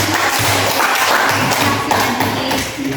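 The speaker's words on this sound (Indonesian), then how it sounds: "Oke, berikan aplaus" A class applauding after a student presentation, dense continuous clapping from many hands filling a room, loud and steady for a few seconds.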